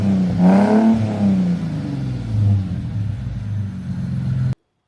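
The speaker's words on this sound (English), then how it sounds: "Okay, so the exhaust is all built. Now, do I like the sound?" A deep, steady engine rumble from a custom-built exhaust on a Mercedes C32 AMG, loud and close, swelling briefly early on before settling into a constant low drone that cuts off abruptly.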